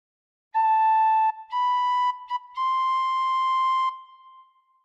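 A tin whistle plays a short melodic phrase of a few sustained, pure high notes with brief breaks between them, clear and close with no talking.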